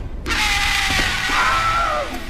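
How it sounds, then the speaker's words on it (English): A Wilhelm scream sound effect from a movie: one loud, drawn-out male scream that starts abruptly, holds and fades over about two seconds with no talk around it. "causing him to fall out and do a Wilhelm scream"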